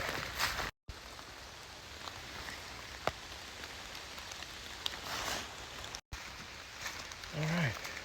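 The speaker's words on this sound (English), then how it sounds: "Pouring rain." Pouring rain patters steadily on surfaces outdoors during a whitetail bowhunting outing, a soft continuous hiss with scattered drops and brief ticks, and a short voice briefly audible near the end.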